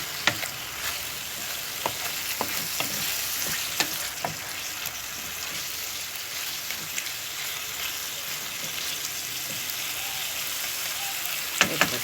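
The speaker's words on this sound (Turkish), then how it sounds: "Gördüğünüz gibi et sotemi, su kıvamı da şu şekilde" Meat sautés in a pan for stuffed eggplant, giving a continuous close sizzle and crackle with scattered sharp pops and occasional stirring clicks, heard alone without speech.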